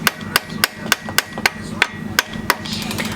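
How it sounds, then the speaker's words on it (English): A hammer taps stuck connecting rod caps on the pistons of a Nissan Hardbody D21 truck engine, about a dozen sharp, evenly spaced metallic knocks, loud and close, with no talking. "I'm tapping them because they've been stuck so long together that it's kind of hard to loosen the caps"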